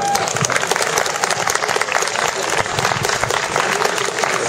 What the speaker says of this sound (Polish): Myślę, że tutaj się należą panu gorące brawa.